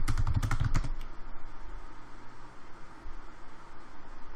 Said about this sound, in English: I'm fucking typing in the speed of light.